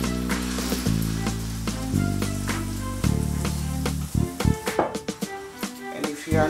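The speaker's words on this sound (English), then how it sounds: "I'm just going to fry my akakro now" Akakro fritters of plantain, pepper, ginger and cassava flour sizzle steadily in hot oil, a continuous hiss running beneath louder background music with sustained tones throughout.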